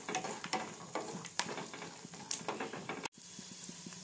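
Raw peanuts fry and rattle in a pan, giving a close crackling sizzle with scraping stir strokes. A brief dropout near the end is followed by quieter frying.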